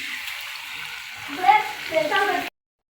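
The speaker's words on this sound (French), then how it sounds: "Là, nos beignets en pleine friture." Homemade corn and banana beignets deep frying in hot oil, a continuous bubbling sizzle that swells with sharper crackles partway through, close and clear before cutting off abruptly.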